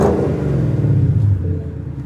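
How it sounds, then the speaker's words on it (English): A 2018 Ford Mustang engine revs up loudly and close, heard inside the cabin, rumbling deep and steady, then eases off slightly toward the end. "let's go and rev it up a couple of times"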